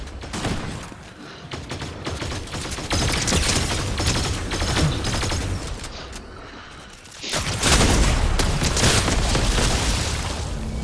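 Gunfire rattles through a Fortnite match in loud, dense volleys of repeated shots, pausing briefly before a heavier burst with booming impacts.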